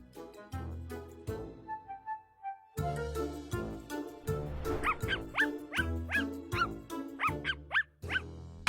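A neighbor's dog barks and yips repeatedly in a garden, a rapid run of sharp, fairly close barks over music-like tones.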